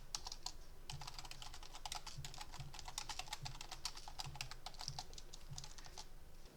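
Steady, fast clicking of keys on a computer keyboard, typed close to the microphone in an even rhythm, with no talking.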